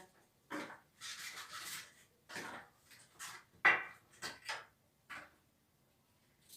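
Light clattering and rustling as cauliflower pieces are dropped into a metal baking tray, a series of soft irregular knocks and scrapes, fairly quiet and close.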